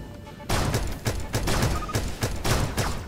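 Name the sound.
gunfire in the video game Starbound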